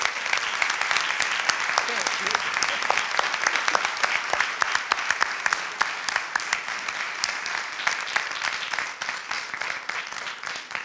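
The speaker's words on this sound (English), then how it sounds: "So maybe we could give them a closing round of applause." An audience applauds steadily, a dense patter of many hands clapping with some voices underneath, sustained throughout.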